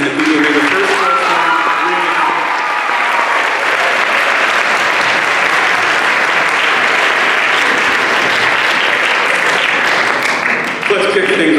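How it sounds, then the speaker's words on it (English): A crowd at a school fall athletic assembly claps loudly and continuously, dense applause that stays steady throughout, with a voice briefly audible at the start. "So a big round of applause to all those people I mentioned, the people who made the first time."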